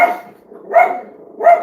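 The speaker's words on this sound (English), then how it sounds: "sorry for the dogs." Small dogs bark sharply at a mail carrier, three quick yapping bursts close by and loud, with short pauses between them.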